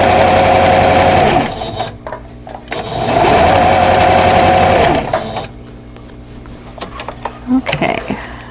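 A sewing machine stitching a vintage butterfly quilt block runs with a steady, loud mechanical whir in two long bursts separated by a short pause, then stops for quieter handling noises and small clicks.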